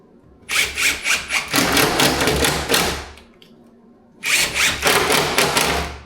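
A power drill drives screws into plasterboard in two loud, close bursts, the motor revving and straining over several seconds, separated by a brief quiet pause.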